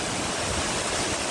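Lisbon Falls waterfall in Mpumalanga, South Africa, a dense, continuous roar of falling water, loud and unbroken with no voices.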